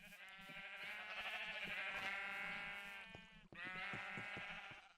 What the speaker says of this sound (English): Rainbow sheep.